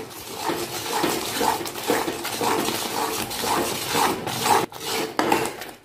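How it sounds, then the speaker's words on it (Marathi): Khoa and fresh grated coconut barfi mixture being stirred steadily in a pan, a continuous close scraping and rubbing with a rhythmic stroke pattern, no talk over it. "तोपर्यंत सारखं हलवत राहायचं।"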